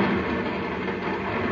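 A steady low rumble of a train rolling along, continuous and fairly loud, with no voices.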